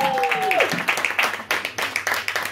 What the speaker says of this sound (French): Et là, un tonnerre d'applaudissements